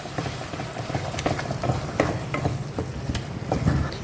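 Lentils and raw tomato sizzle in a hot pan while a spoon scrapes and stirs them in quick, irregular strokes, close and fairly loud.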